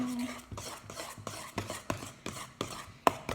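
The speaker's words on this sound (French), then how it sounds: "Et on mélange jusqu'à ce qu'on ne voie plus de blanc." Homemade slime being stirred and mixed in a bowl, a run of regular wet scraping strokes with occasional light utensil taps, close up and with no talk.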